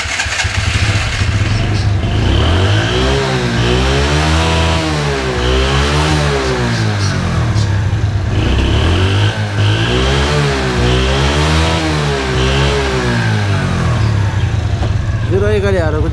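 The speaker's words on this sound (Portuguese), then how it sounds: "Agora vamos ligar a moto." A motorcycle engine starts and revs repeatedly in rising and falling waves, loud and close, with a steady idle between revs.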